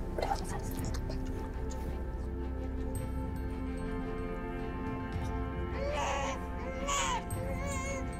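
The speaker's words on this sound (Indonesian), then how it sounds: "suara anak-anak nangis, aku ke kamar bayi bentar ya" Babies cry faintly from another room, thin wails rising near the end over a low background hum, with people talking at a distance.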